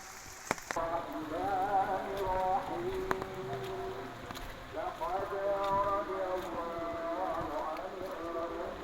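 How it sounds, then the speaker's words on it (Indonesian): Rain falls steadily over a village, with a continuous hiss of drops on surfaces and a faint rhythmic clopping in the background, heard from a moderate distance with no voices present. "ini tuh lagi hujan"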